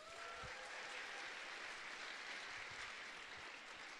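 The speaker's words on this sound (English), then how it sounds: "one more round of applause for Dean Kumar" Applause from a large audience at the PennApps XVI hackathon opening ceremony: a steady, even roar of many hands clapping that continues without break for four seconds, sounding distant and quiet.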